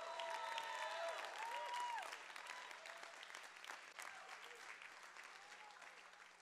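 A church congregation on Palm Sunday claps hands in a dense burst of applause, loudest over the first two seconds and then easing to steadier, softer clapping with some crowd noise underneath.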